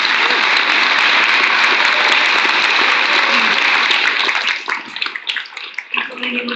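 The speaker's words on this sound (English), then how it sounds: "So I think we should give all of our candidates a round of applause." Sustained audience applause for city council candidates at a Fairbanks candidate forum, loud and dense for about five seconds before thinning into scattered claps and fading out.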